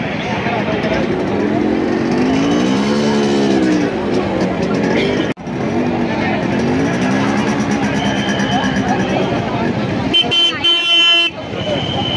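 Motorbike horns toot at a women's bike rally on a city street, short honks rising over loud engine noise and a crowd, with people talking throughout.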